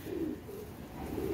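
A champion female pigeon, flown for about five seasons, coos in soft, low, rolling phrases, close by and alone.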